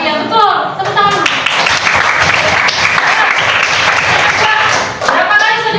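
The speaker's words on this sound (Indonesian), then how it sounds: "Tepuk tangan dulu" Classroom students break into group applause, a dense burst of clapping lasting several seconds, with a teacher's voice speaking just before and after.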